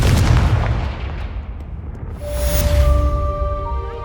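A Confringo explosion spell in the Hogwarts Legacy video game hits with a loud booming blast, then a rumbling tail fades as bright tonal chimes ring out.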